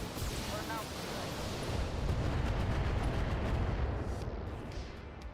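A mech in BattleTech fires every weapon at once, a sustained roaring barrage of overlapping blasts and rumbling explosions, dense and loud throughout, fading slightly at the end.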